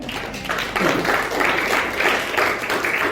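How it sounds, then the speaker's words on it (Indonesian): Congregation in a church service clapping for God, a loud, full burst of applause from many hands that swells in waves and continues steadily throughout. "Ada tepuk tangan buat Tuhan."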